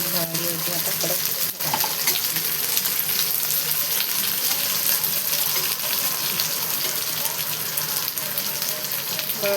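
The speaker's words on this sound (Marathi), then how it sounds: "बघा किती छान आपली भेंडी फ्राय व्हायला लागली." Okra frying on a hot tawa gives a steady, dense sizzle that runs loud and unbroken, with a brief scrape or clatter near the start.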